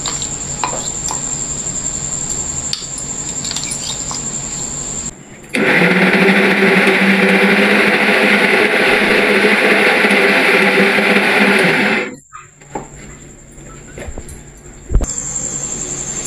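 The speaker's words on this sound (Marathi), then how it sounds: "चला तर मग आता मिक्सरमध्ये वाटून घेऊया।" An electric mixer grinder whirs loudly for about six seconds, grinding cooked raw mango pulp for panha, a summer drink. Quieter kitchen noise with a steady high hum comes before and after, and the motor winds down abruptly at the end.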